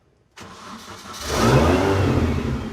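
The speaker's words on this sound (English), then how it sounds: "Then the rear engine first because it starts nicer." A British car's rear engine cranks and catches, starting quietly before rising into a loud, steady mid-pitched run with some revving, close by and without talk.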